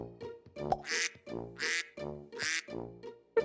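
A voice imitates a duck, repeating rhythmic nasal quacks, about four in a row, close and clear with short pauses between.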